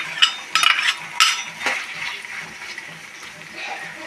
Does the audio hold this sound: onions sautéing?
yes